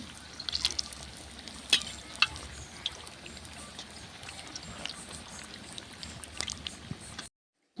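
Battered green chili bajji fry in hot oil with a steady, soft, hissing crackle, broken by a few sharper pops and light stirring clinks; no one speaks.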